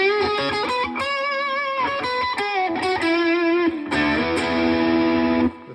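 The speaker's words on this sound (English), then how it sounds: "let's put some distortion in it." An electric guitar plays through EQ pedals with distortion added, a series of loud sustained chords and notes with a gritty saturated tone, played alone without talk.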